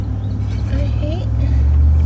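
A pickup truck being driven, its steady low engine drone filling the cabin beneath someone talking.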